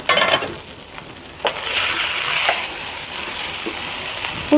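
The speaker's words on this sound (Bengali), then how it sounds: "এখন দেখেন আমি একটু ভেজে নেব ঘি দিয়ে সুন্দর করে" Food sizzles in hot ghee in a pan while being stirred, a continuous bright crackle with occasional scraping clicks, close and loud throughout.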